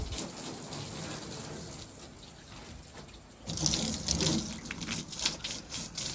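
Stones being rinsed with water outdoors: a steady, soft splash and trickle that jumps louder midway as a stronger stream pours over them, with no talking.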